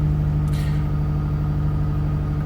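A Subaru car engine idling steadily after starting, a low, even hum with a constant rhythmic pulse throughout, close and unbroken, with a brief faint higher hiss early on.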